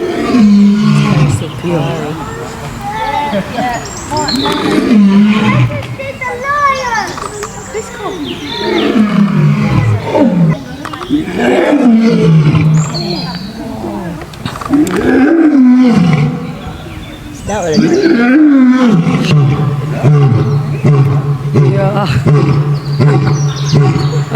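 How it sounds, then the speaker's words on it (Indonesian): A lion roars repeatedly from a video played on screen in a church hall, deep loud roars and growls that rise and fall in bursts, with a speaker talking over and between them. "Oh ini gambarnya singa."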